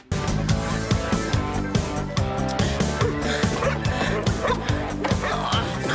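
Several dogs bark and yip in a lively, sustained chorus close by in a scene from the Goosebumps episode My Hairiest Adventure, with whimpering among the barks and an underlying musical soundtrack running the whole time.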